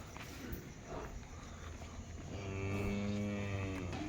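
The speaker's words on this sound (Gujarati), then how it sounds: "આ જો અમારી ગાય છે" A farm cow gives one long, loud, close moo in the second half, after a stretch of quiet outdoor background noise.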